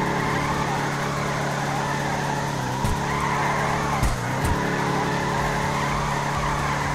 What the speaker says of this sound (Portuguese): Não sei se é porque eu tô fazendo drift na subida também